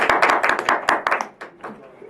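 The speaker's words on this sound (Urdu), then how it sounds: "آپ کی تالیوں کی گونج میں اپنا کلام پیش کریں گے" Audience applause at a mushaira, a Urdu poetry gathering, as a poet is welcomed to the stage: a short burst of clapping that thins out and fades over about two seconds.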